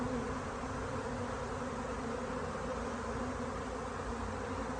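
Bees captured in a hive box make a continuous, dense buzz that stays close and even for the whole stretch.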